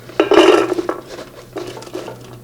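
Almonds and rice are tipped into a soy milk maker, a close, loud clattering rattle of hard grains against metal, then a few softer scattered clinks trailing off.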